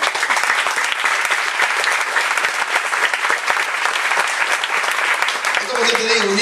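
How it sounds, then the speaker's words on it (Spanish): Loud, dense applause fills a church during an evangelical sermon, a continuous wash of many hands clapping, with a voice beginning to speak as the clapping fades at the end. "Fuerte el aplauso."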